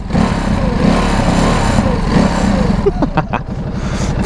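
A 2024 Ducati Desert X Rally motorcycle engine runs steadily and loudly while riding, with a rising rev near the end.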